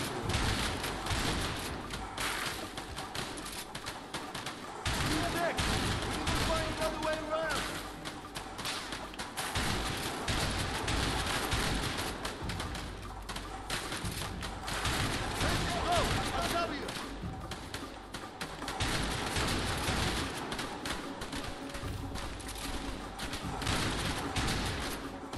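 Gunfire in the video game A Way Out, a dense, continuous run of rapid shots and thuds lasting throughout, loud and close, with people talking over it.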